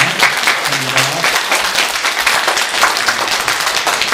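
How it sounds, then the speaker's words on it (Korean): A church congregation applauds at a Sunday service, celebrating members with continuous clapping from many people across the room, steady and fairly loud, with a voice briefly audible beneath. "우리 다 같이 이 두 분을 위해서 박수로 축하하도록 하겠습니다"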